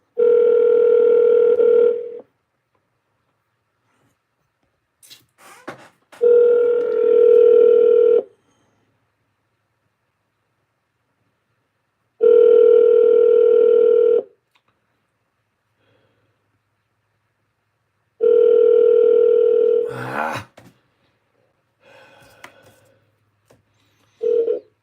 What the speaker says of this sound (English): I'm going to have to get this phone number and call it out loud.